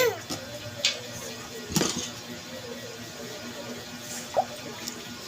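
Water is poured out for children to drink, faint trickling and a few soft splashes and drips heard close by in a quiet room, with occasional low voices.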